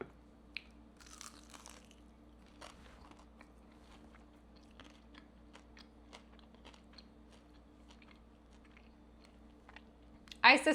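Someone bites into and chews a chicken nugget brined in apple cider vinegar, giving soft, close crunches and faint chewing clicks against a quiet background, then a louder burst at the end.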